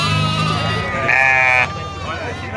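Sheep bleat at a goat and sheep livestock fair in Sumé, Paraíba, one long loud bleat rising clearly above nearby voices and crowd murmur.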